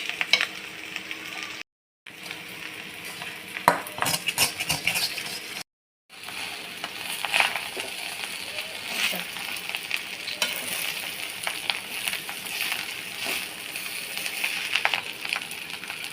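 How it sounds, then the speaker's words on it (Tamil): Prawn fried rice being stirred in a hot pan, with steady sizzling and frying plus repeated scraping and clinking of the utensil against the pan, close and continuous, interrupted by two brief silent gaps. "எல்லாம் போட்டு கிளறிக்கலாம்."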